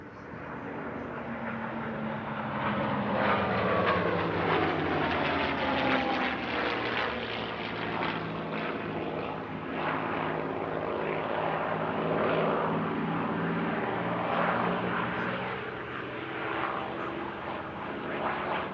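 A warbird formation of a Hispano HA1112 M1L Bouchon and a TF-51D Mustang sweeps over an airshow near Paris, piston engines droning loud with shifting Doppler pitch as they pass, swelling and easing twice.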